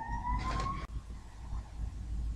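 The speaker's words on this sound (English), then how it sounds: "There's a police truck right now." A police truck or ambulance siren passes: a rising wail tone carries through the first second, then cuts off abruptly, leaving steady low traffic rumble.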